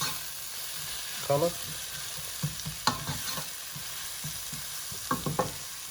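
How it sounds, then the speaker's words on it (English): Onions sauteing in a pan for a kidney bean dish, with a steady low sizzle and occasional spoon stirs and clinks, soft and close, with a brief word spoken. "So keep sauteing it until it comes to a nice translucent"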